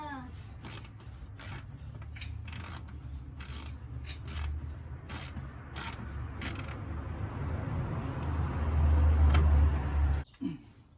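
Ratchet tightening a clamp during a service on a 1990 Volvo 240, a run of sharp clicking bursts over a steady low engine-like hum that swells toward the end before cutting off.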